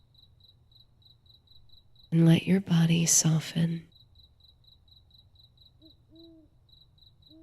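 Night crickets chirp in a steady, evenly spaced pulse that runs through the whole stretch. A calm voice speaks over them for a couple of seconds, and a faint bird call rises near the end.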